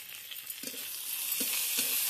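Whole spices sizzle and crackle in hot oil on a stove as a tempering is made, a steady frying hiss with a few brief stirring bursts, close and moderately loud with no voices.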